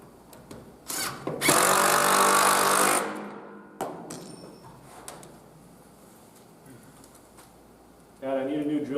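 An electric drill with a worn chuck runs loud and steady for about two seconds, then stops and leaves quieter room noise and soft talk behind it.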